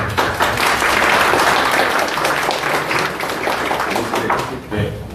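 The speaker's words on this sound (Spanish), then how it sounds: "gracias por aplaudir a alguien que todavía no habla" A conference audience applauds a doctor arriving to speak on vaccines, a sustained roar of clapping hands that stays full for several seconds and tapers near the end, with a voice briefly audible.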